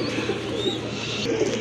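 Desi Bombai pigeons with deep red plumage give low throaty coos close up and fairly loud. The calls are steady and overlap one another, with a faint higher chirp and no talking.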